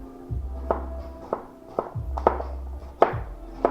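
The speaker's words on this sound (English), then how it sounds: "Get this chopped up." Produce for watermelon juice being chopped on a cutting board with a knife: six or seven sharp, close thunks at an uneven pace, each followed by a low knock, with no talking.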